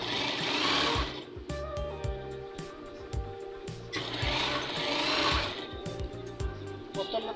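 A sewing machine runs in two long bursts while stitching a seam on a kindergarten uniform, a loud, steady mechanical whir with rapid needle ticking. It pauses briefly between the runs and is heard up close.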